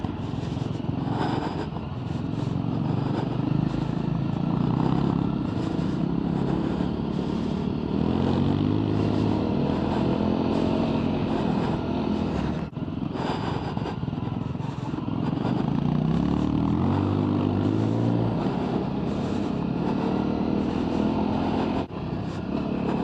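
A motorcycle engine at a festival runs loud and close for a long stretch, its pitch rising and falling with shifts, two brief dips breaking the steady roar.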